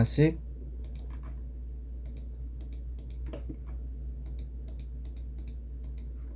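A computer keyboard tapped while working in CAD software, giving a run of sharp, close, evenly spaced clicks in quick bursts over a low steady hum, after a short voice at the start.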